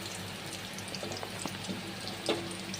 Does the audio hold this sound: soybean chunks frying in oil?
yes